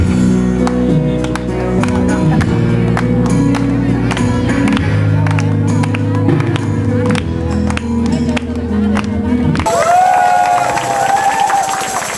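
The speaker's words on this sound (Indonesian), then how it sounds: "Tepuk tangan buat anggota Majelis Taklim Masjid Al-Mujahidin Lubua Awal." Audience applause and cheering at a local Independence Day contest performance by a mosque women's qasidah group, dense continuous clapping mixed with music and crowd noise, and a shift in sound near the end.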